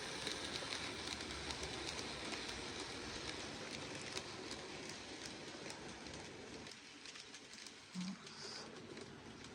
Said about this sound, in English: Once the trains have gone past.